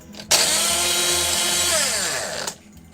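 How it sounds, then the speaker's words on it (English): A blender roars to life, whirring loudly for about two seconds with its pitch shifting as it churns, then cuts off abruptly. "Then turn the blender on."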